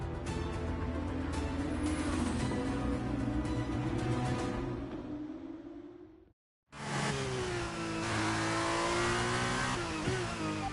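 An F1 car in the F1 23 racing game, on brand-new tyres, accelerates with a loud, sustained high-pitched engine whine that rises through the gears, cut by a brief silent gap before the roar resumes.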